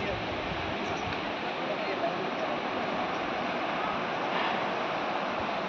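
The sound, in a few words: Dibang river water rushing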